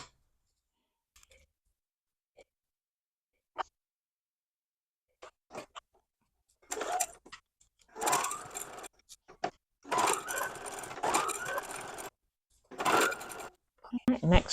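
After scattered quiet clicks, a domestic sewing machine stitching quilt-as-you-go fabric pieces whirs in several short bursts of a few seconds each, close by, separated by brief pauses.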